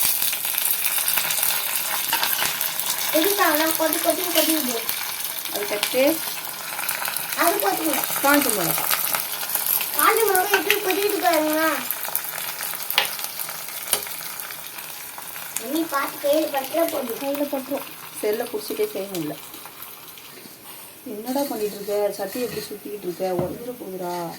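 Onion and curry leaves sizzle steadily in hot oil as a tempering for a small-leaf spinach dish, a continuous loud frying hiss with occasional stirring, while people talk over it throughout.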